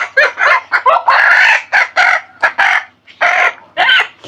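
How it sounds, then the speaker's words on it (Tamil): Chickens cluck and crow close by in a series of loud, choppy bursts separated by short gaps. "கோழி இன்னொன்று பிடிச்சி போட்டீங்களா சரி"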